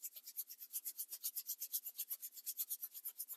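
Rhythmic back-and-forth rubbing of a wax strip on an arm during home waxing, about two strokes per second, soft and close with a breathy scraping texture and no talking.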